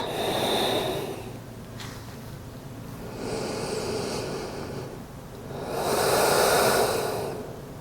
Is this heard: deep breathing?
yes